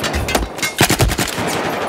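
Battlefield 4 gunfire rings out as a close, loud burst of rapid shots, several cracks in quick succession over about two seconds.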